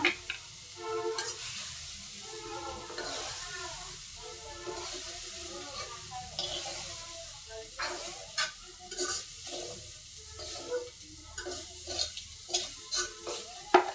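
Fried soybean chunks are stirred and scooped from a sizzling pan, with steady frying hiss under repeated scraping and clattering strokes of a spatula, close and moderately loud.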